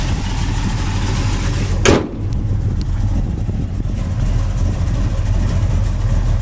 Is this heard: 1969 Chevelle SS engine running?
yes